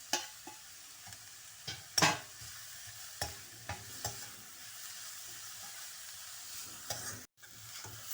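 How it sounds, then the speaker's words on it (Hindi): Crushed carrots and a large green chili being lightly fried in a pan for potato-carrot cheese kababs: a steady soft sizzle with repeated spatula scrapes and stirring knocks, one sharper clatter near the start, close and fairly quiet. "और अब इसको हल्का सा भूनेंगे, हल्का सा, बस इसको भी उतना ही सॉफ्ट करना है जितना प्याज को मैंने किया।"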